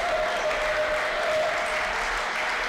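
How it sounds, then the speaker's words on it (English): Crowd applause in a gym during a Centralia College versus Grays Harbor College men's basketball game, a brief steady wash of clapping with a faint sustained tone underneath. "There's an applause."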